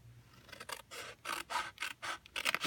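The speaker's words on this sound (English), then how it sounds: "So I'm going to cut straight up." Scissors snipping straight up through card stock or paper in a series of short, close rasping cuts, about six strokes with brief pauses between, no talking.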